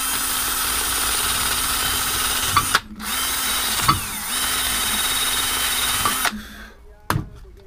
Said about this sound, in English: Just put it on my normal drill.